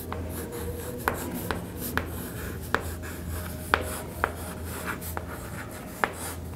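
Writing on a board during a materials-science lecture on defect reactions: scratchy strokes punctuated by about ten sharp taps at uneven intervals, fairly close, with no talking.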